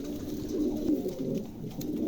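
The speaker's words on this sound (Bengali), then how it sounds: "চমৎকার এক জোড়া কবুতর ভালো লাগলে অবশ্যই সংগ্রহ করতে পারেন" A pair of bull head long face pigeons, one male and one female, coo in a steady, close and fairly loud low warble that runs continuously with no voices.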